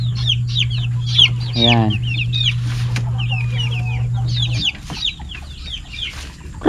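Several chickens, a Brahma among them, cluck and chatter in a pen. The calls are close and overlapping, with one drawn-out, stuttering call, over a steady low hum, and someone speaks briefly.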